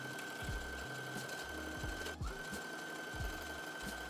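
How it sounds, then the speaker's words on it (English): A sewing machine stitches a 1 cm seam around a wrap skirt, a steady mechanical whir with short bursts and brief pauses, close up with no talking. "you are simply going to sew all the way around with a 1 centimeter seam allowance"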